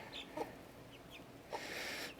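Chickens, including a silkie hen with her newly hatched chicks, heard softly at a distance; faint clucks and a few brief peeps rise over a quiet background.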